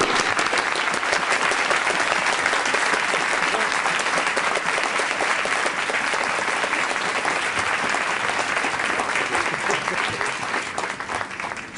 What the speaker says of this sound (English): she deserves applause for all of those steps between there and there